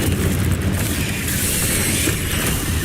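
Incendio fire spell cast in the video game Hogwarts Legacy, a loud, dense roaring burst of flame and rumbling impact that fills the whole moment continuously, close and heavy, with no talking.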